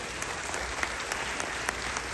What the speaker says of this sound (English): So can we start the program with a huge round of applause for everybody?